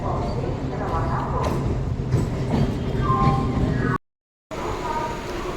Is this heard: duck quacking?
no